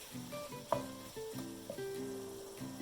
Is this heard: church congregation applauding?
no